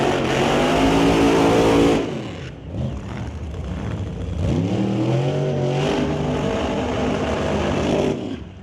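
A top fuel dragster with a big blown Oldsmobile engine makes a final-round pass down a drag strip. Loud, sustained engine roar breaks off, then rises again in a swelling, revving pitch and holds steady before ending abruptly.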